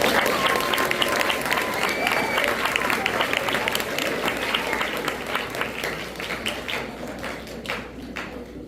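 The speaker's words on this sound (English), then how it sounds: "let's give them a round of applause" An audience applauds school band students at a Christmas concert, dense sustained clapping that fills the room and slowly thins toward the end.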